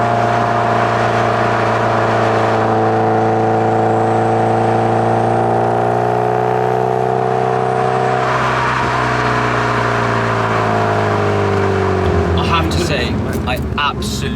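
A Subaru Impreza STI S203 pulls hard in a higher gear, its engine note a steady droning hum that climbs gradually and stays loud and close, easing off near the end as some lighter noises come in.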